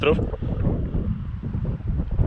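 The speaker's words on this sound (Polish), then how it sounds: "I nawet mnie ten wiatr nie denerwuje" Steady wind roars and buffets the microphone while riding a bicycle uphill in Czechia, just south of the Polish border. It is a loud, continuous rush with no clear voices.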